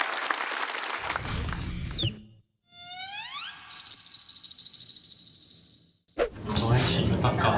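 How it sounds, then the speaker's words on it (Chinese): An audience at a Chinese stand-up comedy show applauds and cheers loudly as a comedian is introduced. The applause breaks off for a stretch of rising whistle-like tones, then returns as a loud burst near the end. "掌声有请林简七"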